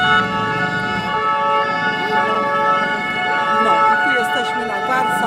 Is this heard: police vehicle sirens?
yes